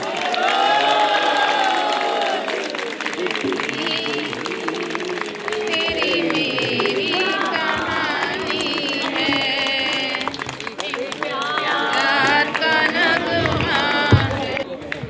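Audience at a Hindi comedy poetry gathering held by a Ramayana trust claps and cheers loudly and steadily throughout, with shouts and voices mixed into the crowd noise.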